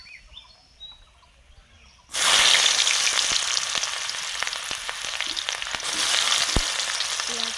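Black cumin seeds and a dried red chili hit hot oil in a home kitchen pan while cooking fish, bursting into a loud, steady sizzle after a quiet start and crackling on alone.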